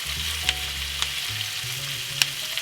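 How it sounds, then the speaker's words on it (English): Bacon and onions fry in a pan with a steady close sizzle, broken by a few sharp clicks or taps from stirring; no talk is heard. "Right now, I'm just cooking up some bacon, caramelizing some onions."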